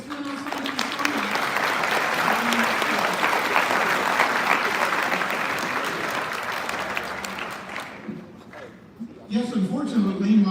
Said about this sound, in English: You're right for clapping over there.